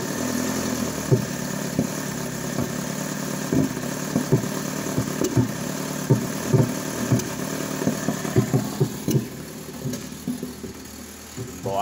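A 2017 Kia Soul Plus sits idling in drive, a low, steady engine hum with a soft, irregular pulsing throb close by; a brief click comes near the end, and no one speaks.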